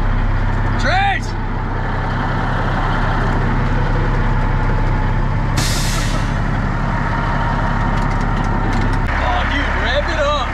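A 1984 GMC General truck, left abandoned for 20 years, runs with a loud, rough engine rumble and a short hiss of air partway through. Voices talk over the noise, and near the end the engine drops to a lower tone.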